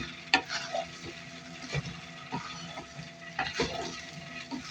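Rice dry-frying in a pan, stirred with repeated scraping and clinking strokes over a light sizzle, moderately quiet and close, no voices.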